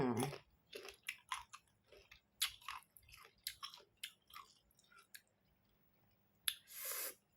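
Someone bites and chews crunchy, out-of-season Nam Dok Mai mango up close, with a string of crisp crunches and wet chewing clicks, loud at first, then softer, and another crunchy bite near the end.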